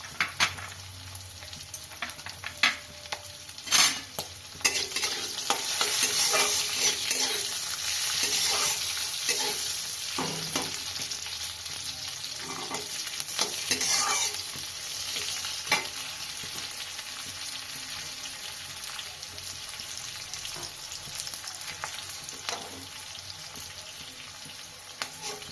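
Raisins sizzle steadily in hot oil in a pan for a Bengali-style tomato chutney, with scraping stirring strokes and a few sharper clinks through a continuous frying hiss, and no talking.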